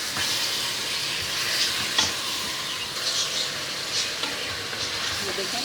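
Meat frying in a pot with garlic, ginger and green chillies, a continuous close hiss and sizzle with soft stirring scrapes and occasional crackles, steady and even throughout.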